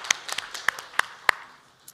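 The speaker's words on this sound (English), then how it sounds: "Let's give her an applause" A few scattered, sharp handclaps ring out in a sparse, uneven burst from a conference audience at a cybersecurity forum after a presentation, close and fairly quiet with no talk.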